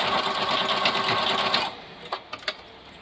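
Electronic sewing machine stitching decorative stitches: a fast, close, steady mechanical whir that runs for about a second and a half, then stops, followed by a few short clicks.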